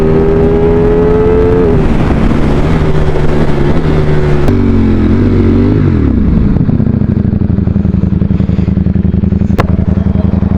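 A Ducati Streetfighter V4 motorcycle is ridden at speed, its engine note loud and close, rising and dropping through gear changes before settling into a steady throbbing pulse over wind roar.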